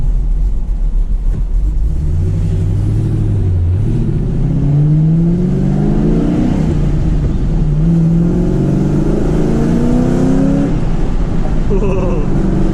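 A deep, throaty V8 exhaust from a cammed 2006 Mustang GT with long-tube headers and an X pipe climbs through the gears as the car accelerates hard, rising in pitch with each pull under steady road noise.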